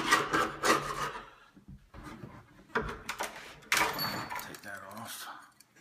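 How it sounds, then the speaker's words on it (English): A small knife scrapes across an antique door lock in short, rough rasping strokes that come in several bursts with pauses between them, close by and fairly quiet. "Take a little knife here and scrape it"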